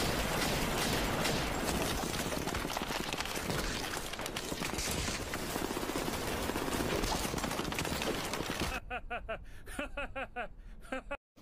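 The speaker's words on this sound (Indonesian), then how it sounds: "mereka tak tinggal diam, langsung mengeluarkan senjata andalan mereka dan menembaki Alucard secara membabi buta." A rapid, sustained burst of anime gunfire from ghouls' guns rattles loudly for several seconds, then stops abruptly and gives way to quieter, broken sounds that resemble laughter.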